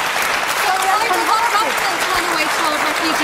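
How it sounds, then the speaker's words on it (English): Studio audience applauding during a televised political debate, steady dense clapping filling the whole moment at high level with faint crowd murmur underneath. "people are applauding her point."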